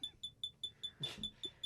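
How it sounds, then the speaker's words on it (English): Fire alarm beeping in a regular repeating pattern, about nine short sharp high tones over under two seconds, heard indoors at moderate distance with a brief burst of rustling or movement midway. "No, it's a fire alarm going off."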